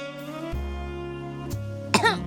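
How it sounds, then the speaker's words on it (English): A single short cough bursts out near the end over a steady, droning game music bed with sustained tones. "Coughing."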